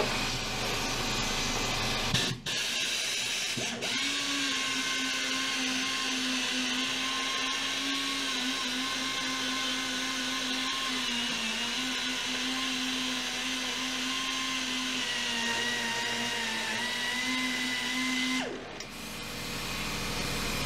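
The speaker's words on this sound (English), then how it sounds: "My grinders are also really nice with these carbide burrs. You get right into the corners. Fast material removal." An electric grinder fitted with a carbide burr works a bulkhead on a fishing boat under refit, a loud, steady high motor whine running for about fifteen seconds before cutting off, nearby and alone.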